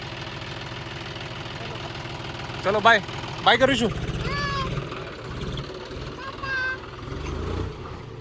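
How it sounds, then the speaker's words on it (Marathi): A tractor engine drones steadily throughout while a voice and other people speak over it. The steady rumble stays at an even level as it moves off. "ट्रॅक्टर गेलाय"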